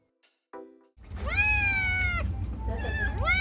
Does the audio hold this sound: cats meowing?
yes